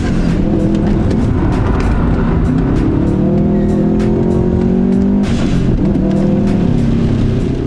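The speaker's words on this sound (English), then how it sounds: "The front LSD in the STI makes it difficult to drift, but it's all in the name of fun." A Subaru Impreza STI with a front limited-slip differential drifts on a wet race track during a track day, its engine roaring loud and close without a break, revving and straining throughout, with no voices.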